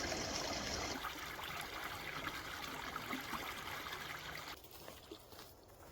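Water from a little waterfall near a boardwalk trickles and splashes in a continuous, soft wash that drops away abruptly near the end, leaving quieter ambience.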